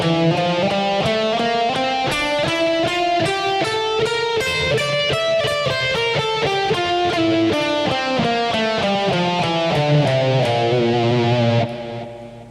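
Guitar runs through the Lydian mode in a steady stream of distinct picked notes, climbing and falling with a slightly effected, driven tone, played alone before cutting off at the end.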